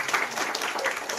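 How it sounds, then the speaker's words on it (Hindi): Audience applause welcoming officials, including a district collector, at a government land-title distribution ceremony in Jharsuguda; dense, steady clapping fills the short moment without a break. "समस्त को अनुरोध करी दयाकर करताली दे स्वागत कर"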